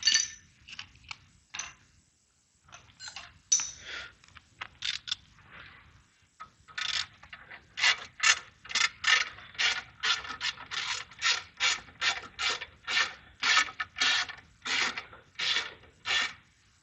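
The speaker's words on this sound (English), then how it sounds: "Now can we tighten the castle nut again?" A ratchet wrench tightens a castle nut on a Kia Ceed's lower control arm suspension, close and alone: irregular scraping strokes at first, then a steady run of about twenty quick, even clicking pulls.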